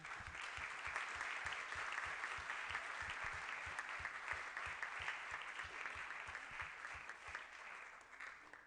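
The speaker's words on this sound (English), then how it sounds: "Let's give them a big round of applause." An audience at a school award and recognition ceremony gives a sustained, even round of applause, many hands clapping together for several seconds, with a faint rhythmic thumping underneath.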